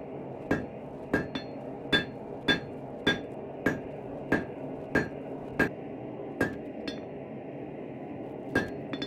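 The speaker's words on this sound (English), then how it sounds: "Then I'm gonna punch a hole and drift this out into a bigger finger hole." A hammer punches a hole in hot steel at a blacksmith's forge while a bull nut cutter is being made: about fourteen sharp, ringing metallic blows in a steady, even rhythm, close and loud.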